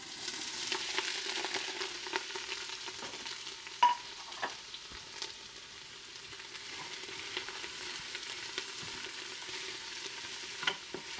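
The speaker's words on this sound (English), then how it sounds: "Put a little olive oil in the bottom. And now the vegetables." Vegetables sauté in olive oil in the bottom of an Instant Pot, a steady crackling sizzle throughout, with scattered light pops and a few soft stirring knocks.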